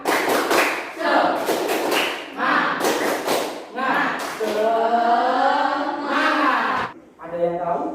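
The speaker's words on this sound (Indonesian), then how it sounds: "Sebelumnya kita tepuk semangat dulu biar kalian semangat" A class does a rhythmic clapping cheer, bursts of claps in a patterned beat with chanting voices over them, loud and close.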